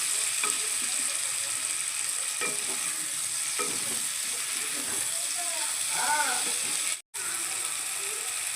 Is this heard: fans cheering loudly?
no